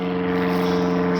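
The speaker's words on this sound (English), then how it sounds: "sorry about the plane" A propeller airplane flies overhead, a steady droning hum with a constant tonal whine that holds throughout at moderate loudness, with no talking.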